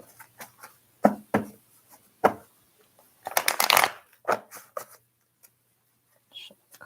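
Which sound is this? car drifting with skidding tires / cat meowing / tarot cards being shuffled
tarot cards being shuffled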